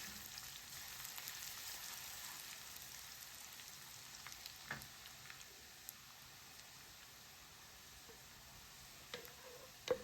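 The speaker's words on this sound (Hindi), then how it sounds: "जिंजर को भी फ्राई कर लिया।" Ginger frying in a pan for Lahori lamb hareesa, a quiet, steady sizzle with faint crackles and occasional stirring clinks, no voices.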